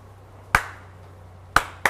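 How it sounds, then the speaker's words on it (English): Sharp hand claps from a person in a junkyard garage while working on a car, each a crisp isolated smack over a low steady hum, with a short pause before a second pair lands close together. "Let's go get a clap"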